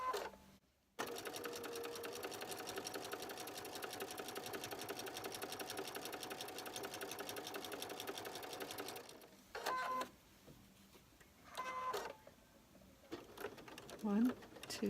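A sewing machine stitches through a quilt in a fast, even run for about eight seconds, then stops and gives a few short bursts, with a voice talking in the gaps.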